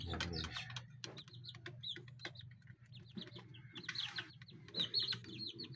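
Young chicks kept in a cage peep and chirp in high, rapid calls, fairly close and continuous, with a lower clucking from a hen or other fowl mixed in beneath them.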